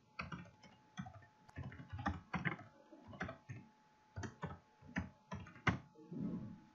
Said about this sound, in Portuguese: basta começar a digitar